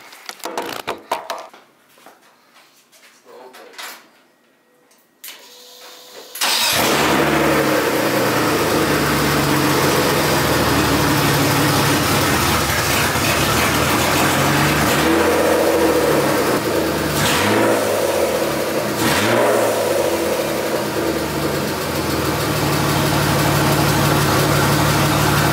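A BMW E36 drift build running open headers cranks and fires, then its engine settles into a loud, steady idle with a few revs rising and falling, heard close up with no talking.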